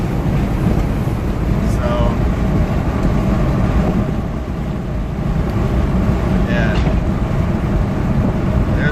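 A supercharged 4WD engine accelerating, heard from inside the cabin as a loud, continuous droning roar with road rumble that holds steady and briefly dips before surging again.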